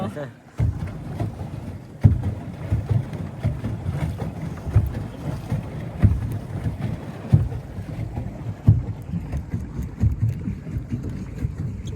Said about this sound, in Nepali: ये देखा ये बोट कैसे मेरे कब्जे में आ गया